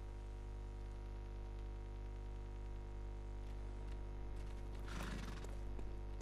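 A horse in the video game Bloodborne gives a short whinny near the end, set against a steady droning game hum, with no talking.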